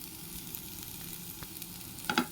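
Cauliflower cooked with chicken masala fries in a pan with a dense, constant close sizzle, and a couple of sharp scrapes of stirring at the very end; no voices.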